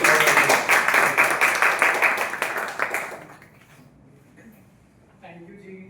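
An audience at a Toastmasters club meeting gives a big round of applause for the evaluator, dense steady clapping for about three seconds that then tapers away into a quiet room.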